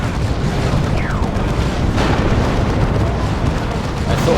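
Rocket run strike explosions rumble through a Dawn of War 2 battle, a continuous heavy booming wash with a brief whooshing streak and a sharper burst midway, loud and close.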